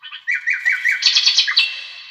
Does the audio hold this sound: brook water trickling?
no